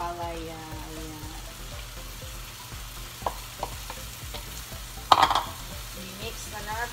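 Bitter gourd (ampalaya) frying in a pan gives a close, steady sizzle with stirring scrapes and a few clanks, and a voice talks faintly beneath it.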